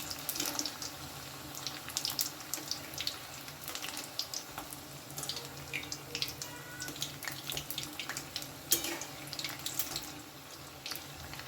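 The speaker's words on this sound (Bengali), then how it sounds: "এইভাবে তিনটে করে করে ভেজে নিচ্ছি" Chicken samosas deep frying in oil over a medium flame, three at a time, give off a steady, dense bubbling crackle with scattered sharper pops, close and continuous with no talking.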